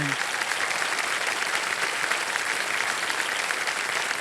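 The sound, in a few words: studio audience applause on game show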